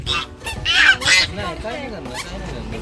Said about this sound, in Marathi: हे बघा चालता बदक बघा